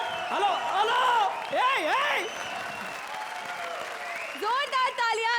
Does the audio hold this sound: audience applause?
yes